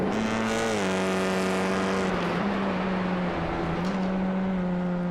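Honda turbo touring car engines in the iRacing sim at Barber Motorsports Park, a loud continuous multi-car roar with rising and falling pitch as the cars shift gears, close and steady throughout.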